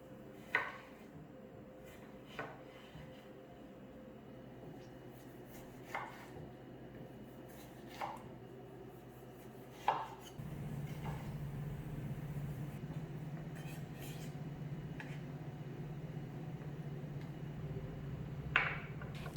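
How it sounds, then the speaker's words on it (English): A knife cutting two tomatoes into small cubes on a board, about seven sharp, evenly spaced chops with quiet gaps over a faint low hum that grows louder partway through, with no voices. "Cut into small cubes 2 tomatoes."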